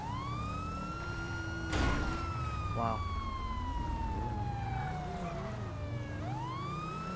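A police car siren wails through a traffic stop in the GTA 5 video game, a continuous gliding electronic tone running steadily throughout, briefly joined by a short burst of noise and a quick warble, with one voice exclaiming over it.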